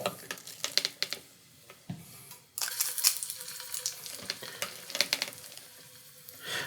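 Small shrimp and bacon cakes dropped into shimmering hot oil, a busy sizzle with crackling pops and a few clinks of a scoop, close up and without talk.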